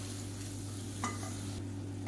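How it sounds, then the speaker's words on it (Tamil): Tomato masala with turmeric and coriander powder sizzles steadily in a pan while a spoon stirs through it, with a few sharper scraping clicks over a constant low kitchen hum; no speech. "இப்போ மசாலா எல்லாமே நல்லா வதங்கிருச்சு"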